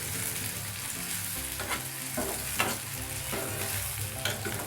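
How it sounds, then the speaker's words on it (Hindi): Onions frying in hot oil until golden for a brain fry dish, a dense continuous sizzle with periodic stirring strokes, close and even in loudness. "तेल गरम होने के बाद इसे प्याज डालनी है और इसको थोड़ा सा गोल्डन ब्राउन से करना है"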